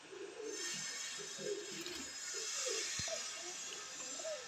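Pigeons cooing softly and repeatedly, young racing birds kept by a pigeon fancier, with low warbling coos over a steady background hiss and no speech.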